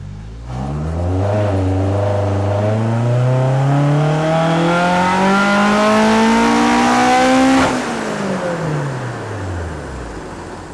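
A Toyota AE86 engine on a dyno revs in one long climbing pull, loud and close, then drops off and winds down as the revs fall, with no talk.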